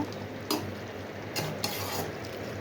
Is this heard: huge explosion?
no